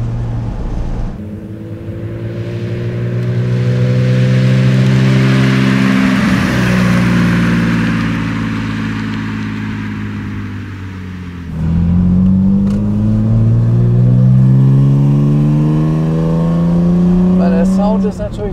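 A 1971 Mercedes 250 CE coupé six-cylinder engine revs up and pulls away, the pitch climbing through gears, dropping, then rising again in a sustained loud drone.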